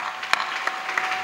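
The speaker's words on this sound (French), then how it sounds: "Acclamez, acclamez, acclamez." Audience at an evangelistic prayer meeting claps in a brief burst of applause, many hands at once with a few sharper claps standing out.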